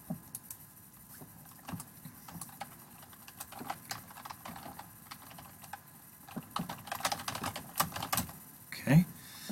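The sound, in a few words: typing on a computer keyboard while writing debug code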